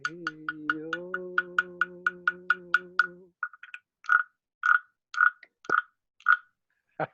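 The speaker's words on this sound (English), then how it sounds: "Spring is in Manitoba. No more snow, no more ice, and the frogs are singing." Frogs call in spring in Manitoba after the snow and ice melt, a rapid series of sharp, regular clicks that becomes slower and more spaced out, with a low humming drone under the first half.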